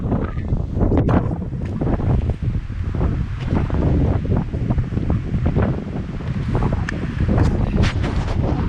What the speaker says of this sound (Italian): Adesso vi faccio vedere quanto vento c'è.